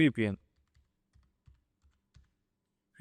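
Sparse, soft keystrokes on a computer keyboard, a handful of isolated taps spaced irregularly after a brief burst of speech, with near silence in between.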